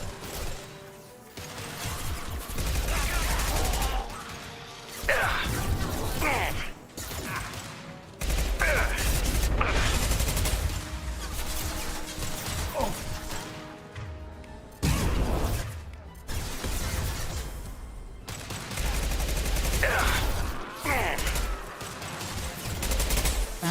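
Repeated bursts of rapid gunfire and impacts from the video game Mass Effect 2 Legendary Edition, loud volleys separated by short gaps, with in-game voices speaking over parts of the fighting.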